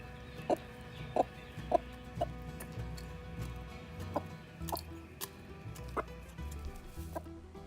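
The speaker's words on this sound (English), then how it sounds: "I've put the broody chicken into the cage and she's having some food and water" A broody hen in a cage gives soft, scattered clucks while eating and drinking, spaced short calls over quiet rustling and pecking sounds.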